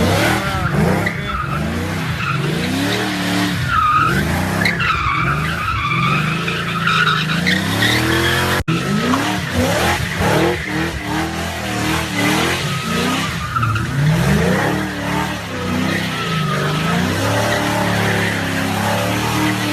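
Ford Foxbody Mustang with a 347 stroker engine doing intersection donuts, loud and close, its tires skidding continuously as the engine revs rise and fall in repeated surges.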